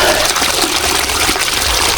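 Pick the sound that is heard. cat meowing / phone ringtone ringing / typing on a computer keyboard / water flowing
water flowing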